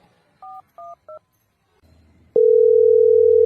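A telephone is dialled with three short keypad tones, a brief pause with a faint hum, then a loud steady ringing tone starts and holds to the end, close and clear with no voices.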